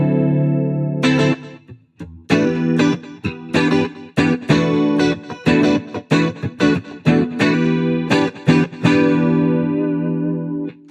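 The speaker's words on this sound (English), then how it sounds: "So some chorus and reverb and delay." An electric guitar through a JBL Bandbox Trio plays a melodic line of picked notes with shimmering chorus, spacious reverb and echoing delay trailing each phrase.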